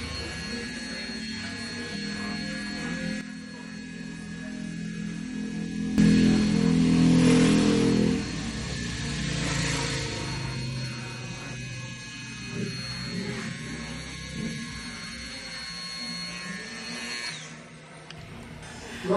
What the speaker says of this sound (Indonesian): langkah selanjutnya, kita memakai trimmer